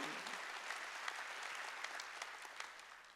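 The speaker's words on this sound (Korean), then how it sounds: "박수" A Korean church congregation applauds at a Wednesday worship service, a dense and even burst of many hands clapping that holds steady throughout, fairly distant and soft in level.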